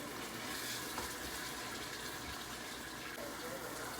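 Cashew paste gravy for an Afghani egg curry thickens in a pan while being stirred, making a dense, even bubbling and sizzling wash with no pauses and a faint scrape of the spoon.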